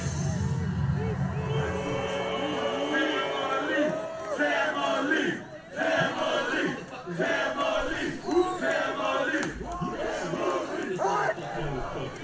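A large crowd at the Gathering of the Juggalos roars and whoops in loud, continuous waves of cheering and shouting, with voices rising and falling across the whole stretch.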